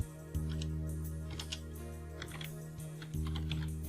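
Computer keyboard keys tapped in a LibreOffice Writer session, Shift and Enter pressed repeatedly, giving a handful of light, close clicks spaced irregularly over a faint steady electronic hum.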